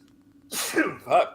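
A single sharp human sneeze in two bursts, a quick intake followed by the explosive release, loud and close against a quiet background.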